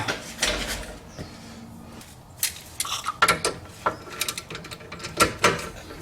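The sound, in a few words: tightening brake caliper bolts with a wrench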